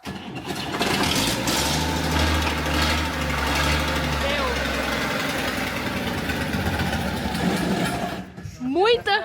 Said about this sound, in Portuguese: Ô, Luquinho, deixa ligado, o cabeludo Tira. puxa o escape, aí você vai ver a diferença